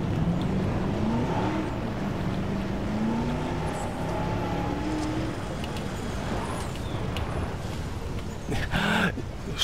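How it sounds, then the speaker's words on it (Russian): A noisy car drives in the dinosaur park game Jurassic World Evolution, giving a steady rumbling engine drone with a whining tone that runs for about ten seconds, ending in a few brief clicks. "Шумная машина."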